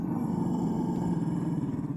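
A low, sustained growl from a Mabari war dog in Dragon Age, a steady rumbling snarl held close and loud for about two seconds before cutting off.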